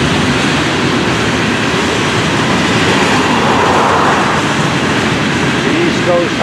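An FEC locomotive, number 101, heads south toward Hialeah Yard at night, a loud, steady rumble of engine and rolling wheels close by, with faint clatter throughout.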